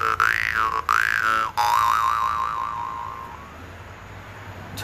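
A jaw harp twangs in a few short, wobbling, boinging notes that rise and fall, then a longer sustained warbling tone that fades out, close and alone.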